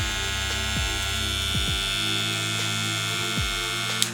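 A top-of-the-line Wahl hair trimmer sold at Walmart runs with a continuous electric buzz and whine, close and steady, with faint low thumps and a small click near the end.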